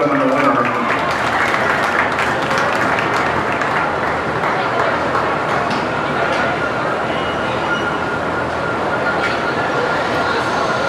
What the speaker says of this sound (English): let's give all these exhibitors a round of applause for this gentleman, the winner